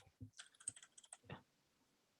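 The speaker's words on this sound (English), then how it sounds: "my keyboard's playing up here" Rapid typing on a computer keyboard that is acting up, a close, crisp run of clicking keystrokes in quick bursts, then a pause before one last tap.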